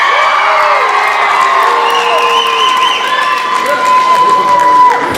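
Live audience at an elementary school follies show, including children, yelling, whooping and clapping continuously in a loud, dense crowd roar with high shouts rising above.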